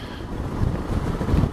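Wind buffets the microphone in low, rumbling gusts, steady and close, with no voices, on an exposed stretch of the Peak District.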